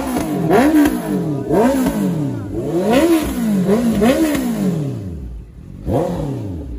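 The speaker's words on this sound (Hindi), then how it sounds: "अभी थोड़ा एग्जॉस्ट नोट सुन लेते हैं CBR650R का।" Honda CBR650R exhaust revving at a motorcycle meetup, loud close blips rising and falling in a repeated series of about six throttle pulls, each climbing then dropping back to idle.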